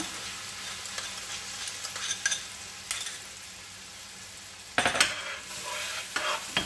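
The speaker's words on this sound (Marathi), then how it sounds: "त्यानंतर त्यामध्ये आंब्याचा रस घालायचा" Mango pulp cooking in ghee in a pan, a soft steady sizzle with intermittent scraping stirs of a spoon, close up with no voices.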